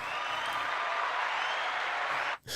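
Welcoming applause, a continuous dense wash of many hands clapping at steady loudness, cutting off abruptly near the end with a brief pause before resuming.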